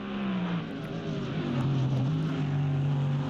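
Race cars lapping at Watkins Glen during a GT Challenge round, with a Cupra and a Hyundai among them, make a steady, loud engine drone with shifting pitch as they pass.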